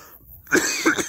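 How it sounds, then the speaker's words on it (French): A quiet pause, then a few short hacking coughs close by, in quick succession. "Et comme vous entendez, je tousse toujours"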